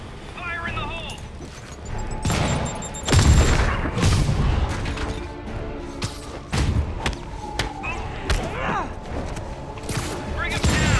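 Explosions and heavy thuds erupt in a battle in the PS4 game Spider-Man, with loud booming bursts around three and six seconds over continuous game action and clattering impacts, and voices calling out amid the chaos.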